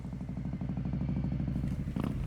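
A motorcycle engine putters steadily at low revs, close and rhythmic, rising briefly near the end.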